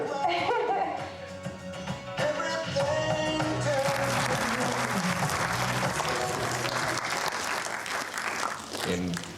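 An audience at a film preview screening breaks into sustained clapping that swells in after a few seconds and fills the room, following a stretch of tonal, whining sounds and murmuring voices.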